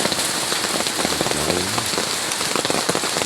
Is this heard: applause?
no